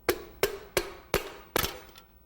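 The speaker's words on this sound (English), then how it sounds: "you can tap it with the end of a hammer onto the piston like this to move it into place" Hammer end tapping a piston into place during four-stroke engine assembly: five sharp metallic taps, evenly spaced about a third of a second apart, close and distinct with short ringing decays.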